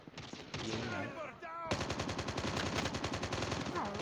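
Rapid automatic gunfire from a Call of Duty Mobile match, a loud burst of fast repeated shots after a short stretch of other game sound, with voices faintly underneath.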